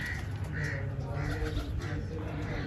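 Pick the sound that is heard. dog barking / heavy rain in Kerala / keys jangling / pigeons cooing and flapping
pigeons cooing and flapping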